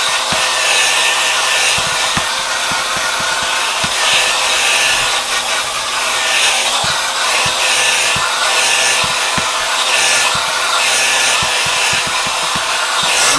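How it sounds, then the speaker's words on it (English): A Lumière Ionic blow dryer runs continuously on hair, a loud steady whooshing roar with faint rubbing and ticking from moving it around the scalp, no talk. "And I'll get my blow dryer out. This is the Lumière Ionic blow dryer."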